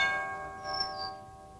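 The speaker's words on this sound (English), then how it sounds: "Ring that bell." A struck bell ringing with a sustained metallic tone that slowly fades, steady and moderately loud, alone without talk.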